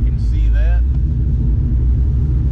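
A Mach 1 with a 6R80 automatic transmission cruises along, its engine a deep, steady rumble from inside the cabin, with someone talking briefly over it.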